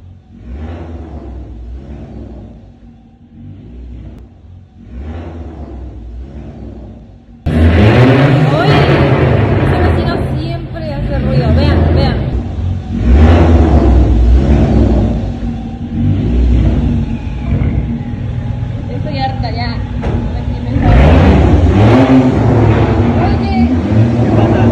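A loud, noisy car engine revs hard and rumbles in repeated surges, with voices talking over it near the start and at moments throughout.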